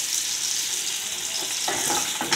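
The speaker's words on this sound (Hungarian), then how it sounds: "kétszerre fogom megsütni, hogy ne hűtse vissza nagyon a serpenyőt" Fattened goose or duck liver sizzles loudly in a very hot pan, with a steady crackling fry that surges as more pieces hit the surface.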